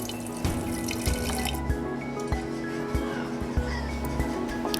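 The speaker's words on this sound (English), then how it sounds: "we're going to pour about 1/4 cup of juice in the airtight jar" Juice is poured into an airtight jar while making kombucha, a steady close liquid trickle with small splashes and drips.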